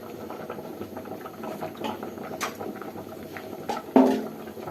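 Oil heating in a wok-style pan for curry leaves rice makes a steady low sizzle and crackle close by, with soft clinks and a sharper burst of frying near the end; no one speaks.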